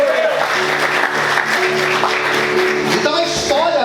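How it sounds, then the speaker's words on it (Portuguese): Church congregation applauding during a sermon, loud sustained clapping filling the room for several seconds, with a preacher's voice rising over it near the end. "Aplauda o Senhor mais forte,"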